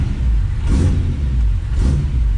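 Chevrolet Opala high-torque engine revving in a garage, a steady loud rumble with two quick throttle blips, close by and with no talk.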